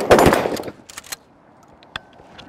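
Shotgun fire in a push/pull shooting drill: one loud, close blast opens the clip and rings out over about a second, followed by a few faint, scattered clicks and a small sharp knock.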